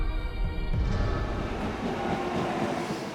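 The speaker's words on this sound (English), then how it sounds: "To get there, it's 2 hours by bullet train." Inside a Japanese bullet train at speed there is a steady low rumble and a broadband rush of air and track noise, holding even and continuous with no voices.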